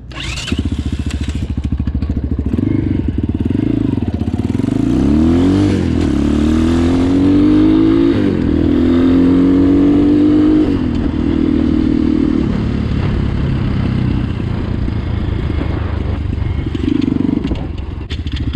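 An Apollo 250 motorcycle accelerating hard in first gear, its loud close engine note rising steadily in pitch, dipping at a shift, then climbing again into a sustained high roar, with no talk.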